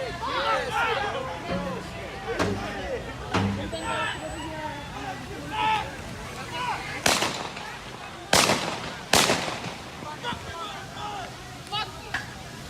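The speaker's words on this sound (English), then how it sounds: "Those are gunshots, people." Gunshots fired at a protest ring out as several sharp, loud cracks scattered through the scene, over constant crowd noise and people talking.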